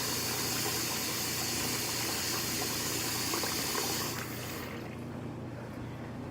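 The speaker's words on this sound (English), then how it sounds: "drop it in the hot water, get it nice and wet, run it up under the hot water" Hot water runs from a tap in a steady loud hiss as a towel is soaked under it, the flow then dropping to a softer trickle.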